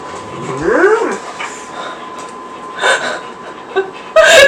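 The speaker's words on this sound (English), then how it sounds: "River, you only bark if I'm getting a package." A dog gives a few short, rising yelps and whimpering barks, close and fairly loud, followed by scattered sharp sounds and a final loud burst, in an indoor home setting.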